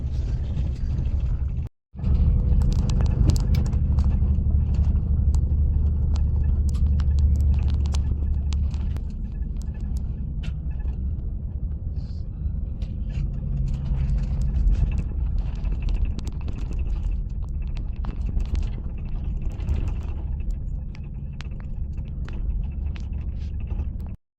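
A bus winding down a zigzag mountain road in Chile, heard as steady low engine rumble and wind buffeting on the microphone, continuous and loud throughout with one brief cut near the start.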